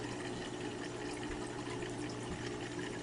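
The outflow of an Azoo Mignon 60 hang-on aquarium filter, turned up to full flow, pours into a tank as a constant close rushing, splashing water sound with a low steady hum underneath.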